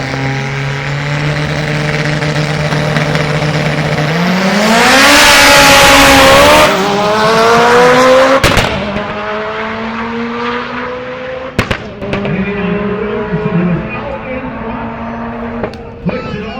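DSM cars in the Street Eliminator semifinals of a drag racing event roar off the line, engines revving and climbing in pitch under a loud crowd-and-PA wash, then fading as sharp pops and bangs punctuate the noise.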